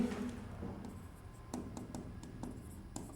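Chalk or marker taps and strokes on a board during a probability lecture, a string of short scratchy ticks at an uneven pace, close and soft, with no speech over them.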